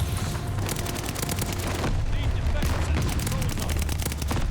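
Rapid STG44 assault rifle fire in the Call of Duty Vanguard multiplayer shooter, dense bursts of gunshots running nearly continuously at close range over game ambience and faint voice chat.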